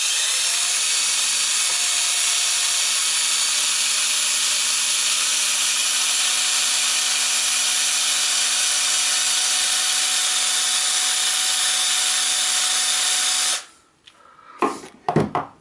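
An electric drill held near electric guitar pickups whines loudly and continuously for most of the clip, then stops abruptly, leaving a few clunks and rustles.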